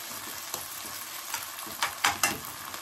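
Ginger and garlic sizzle in a hot pan for a chicken curry, a steady bright hiss broken by a few sharp crackles and spatters toward the end.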